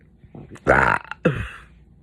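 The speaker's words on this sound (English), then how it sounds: "Confirmation burp." A single loud, drawn-out belch, close up, followed after a short pause by a second shorter burp, with quiet room noise between.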